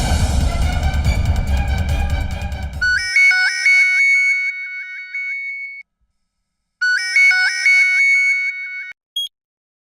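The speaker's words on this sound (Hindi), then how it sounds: "अरे मंजुला के घर पर फोन करके देख लो ना" A house telephone rings during a call: a bright electronic ring pattern repeats in two clear bursts with a pause between, after an opening stretch of loud, dense background sound.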